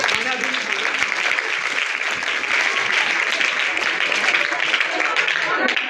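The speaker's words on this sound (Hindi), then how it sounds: "तालियां बजा दें।" An audience claps steadily at a Christmas sermon, dense continuous applause held at an even level throughout, with no words spoken over it.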